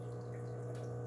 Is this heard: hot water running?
yes